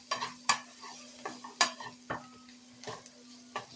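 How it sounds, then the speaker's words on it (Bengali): Tomato sautéing in a pan for chicken bhuna over low flame, with sharp spoon scrapes and clinks against the pan at an irregular pace over a faint background hum. "টমেটোটাকেও একটু কষিয়ে নেব।"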